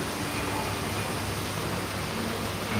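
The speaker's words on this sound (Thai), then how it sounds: "ตอนนี้ก็ฝนก็กำลังจะเบาๆแล้วครับเมื่อกี้นี่ตกหนักมาก" Rain falls over a Tibetan community neighbourhood in New Delhi as a heavy downpour starts to ease, a steady, even hiss of drops with no variation and no voices.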